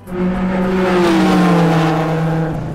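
An old Mercedes car engine revs up close and steady, its pitch climbing slightly then settling over a few seconds, with no voices.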